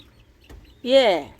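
A single hen gives a short, drawn-out cluck close by after a moment of near silence.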